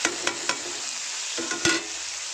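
Tomatoes frying in hot oil for a curry give a steady close sizzle, broken by a few sharp spoon-against-pan scrapes near the start and one more late in the clip.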